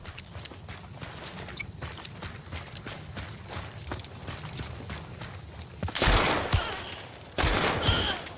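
Mosin rifle shots in the game Hunt: Showdown ring out as two loud, sharp reports, one about two-thirds through and another shortly after, each trailing off, over steady in-game ambience and footsteps.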